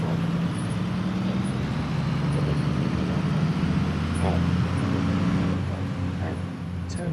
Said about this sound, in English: Turn that down a little bit because this is a very loud truck.